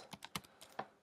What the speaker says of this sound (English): You can actually just type it right in.